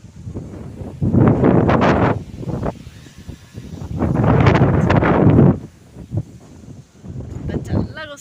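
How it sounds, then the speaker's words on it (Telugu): Strong wind gusts through a tree beside a residential building, rising in two loud, broad rushing surges with quieter buffeting between, close to the microphone. "ఫుల్ గాలి వస్తుంది చూడండి"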